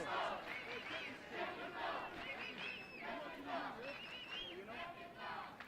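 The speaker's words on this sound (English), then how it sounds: "And now the crowd starts to get involved." Crowd noise swells through a rugby match between Jamaica and Mexico, a steady roar of voices with scattered shouts, continuous and fairly distant across the stands, with some commentary-like speech underneath.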